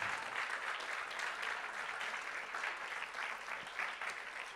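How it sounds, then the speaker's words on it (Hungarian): Sustained applause from a crowd at an evening winter camp gathering, a dense, steady wash of many hands clapping at moderate loudness without a break, with no speech over it. "fogadjátok nagy tapsal."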